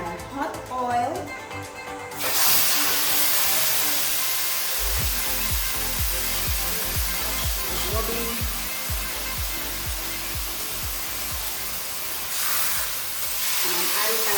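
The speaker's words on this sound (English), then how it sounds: "So I'm going to be adding my pork now to my hot oil." Pork pieces dropped into hot oil for a pot roast, a loud steady sizzle and hiss that surges when the meat goes in and carries on with crackles and pops throughout.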